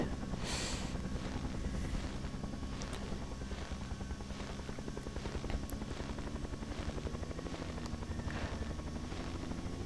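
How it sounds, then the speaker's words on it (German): A military helicopter circles overhead in the video game Project Reality, its rotor chop a steady, fairly loud pulsing drone that carries on for about ten seconds, with no speech. "fliegt der Heli wieder. Ah, schön. Hey, Sieht da oben seine Kreise."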